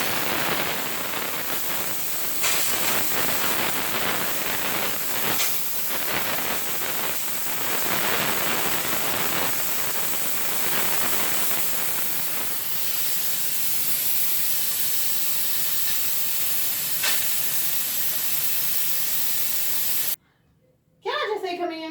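Steam hissing steadily from a pot of stew on the stove, a broad, continuous spray-like hiss that holds for a long stretch with brief crackles, before cutting off near the end.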